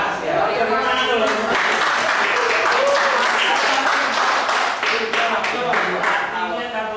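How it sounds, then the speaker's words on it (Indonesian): A group claps in a school classroom setting, brisk sustained applause at close range with voices talking underneath throughout. "Tepuk tangan dulu."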